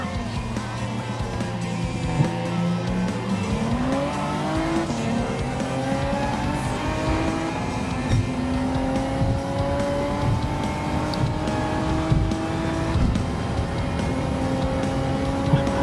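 A Mitsubishi GTO Twin Turbo from 1991 is driven in the Gran Turismo racing game, its engine note climbing steadily through the gears for about sixteen seconds, with some tire squeal and no talk.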